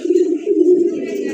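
A pure white nut pigeon coos close by in a loud, steady, throaty hum that swells and dips across a short phrase.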